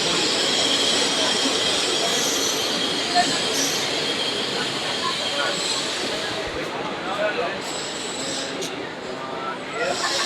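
The Jan Shatabdi Express, train number 12022 on the Ghatshila to Howrah run, rolls along with a loud continuous rumble of wheels on rails and a high squeal, heard from inside the coach with a voice talking over it.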